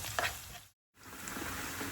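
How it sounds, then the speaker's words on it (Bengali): Dried fish (shutki) fries with spices in a pan, a brief, close hiss of sizzling and stirring broken by a short moment of silence. "একটু ভাজা ভাজা হোক এটা"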